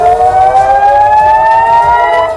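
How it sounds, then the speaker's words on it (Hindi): A civil defense air raid siren wails in northern Israel, a loud sustained tone that rises slowly in pitch across the whole stretch, steady and unbroken. "सायरन बजने लगे थे"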